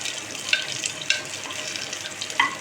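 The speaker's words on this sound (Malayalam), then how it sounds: "അപ്പോൾ ഞാനിത് നന്നായിട്ടൊന്ന് ഇളക്കുകയാണ് കേട്ടോ." Curry with curry leaves stirred in a pan over medium heat, a close, steady sizzle broken by several light scraping strokes of the spoon, no talk.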